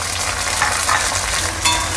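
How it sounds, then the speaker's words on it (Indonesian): Cut okra frying in hot cooking oil, a loud, close, steady sizzle with crackling pops and brief bursts of spatter, continuous for the whole moment without speech. "Sekarang aku mau goreng dulu okra yang sudah dipotong-potong tadi"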